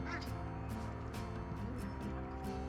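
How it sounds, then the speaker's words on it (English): Ducks, including muscovies, crowd a feeding trough alongside Orpington chickens, giving faint, scattered quacks and honking calls over a dense, continuous background hum. "those scary duck thingies are keeping me away"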